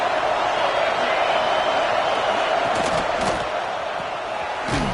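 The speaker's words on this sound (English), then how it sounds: "Guns up, and so is the noise. The crowd electric, trying to help Tech on this 3rd down." Football stadium crowd during a Texas Tech third down, a loud sustained roar of many voices filling the space, with a couple of sharp bangs near the end.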